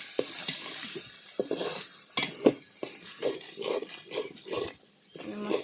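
Ground spice paste fries in a pan for a goat head curry, with irregular scraping stirs and soft sizzling bursts, close and fairly quiet, with gaps between the stirring strokes.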